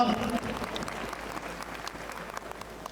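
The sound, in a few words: audience applause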